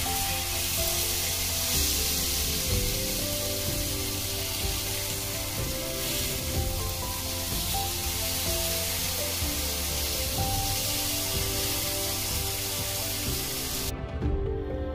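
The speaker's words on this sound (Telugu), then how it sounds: "మీడియం ఫ్లేమ్లో పెట్టుకొని అన్ని పక్కల తిప్పుతూ జాగ్రత్తగా కాల్చుకోవాలి." Chicken kalmi kabab pieces sizzling steadily in a pan over medium flame, a continuous close, even frying hiss with faint crackles and no voices.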